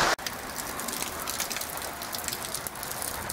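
Steady rain falls outdoors in Mosquero, a continuous close hiss of drops that stays even throughout with no voices.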